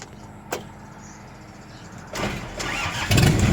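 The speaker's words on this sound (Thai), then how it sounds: "มาฟังเสียงครับ อ่าฟังเสียงเด้อ เดี๋ยวจะสตาร์ทให้ดูครับ" A click, then a few seconds later the engine of a Mitsubishi Cyclone L200 dump pickup truck cranks and catches, its rumble rising and growing louder as it settles into running.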